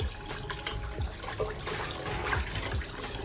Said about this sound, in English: I use cold water to wash the chicken